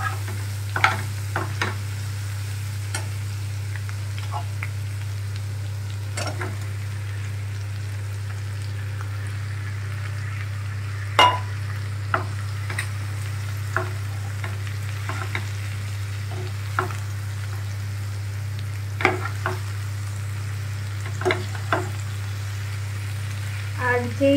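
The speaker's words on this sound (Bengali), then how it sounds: "এবার একটু নাড়াচাড়া করে শ্যালো ফ্রাই করে এর মধ্যে চিকেনগুলো দিয়ে দেব।" Onion, garlic and green chili paste shallow frying in a pan over a steady low hum, with scattered scraping stir strokes and sporadic crackles across a long stretch, no speech.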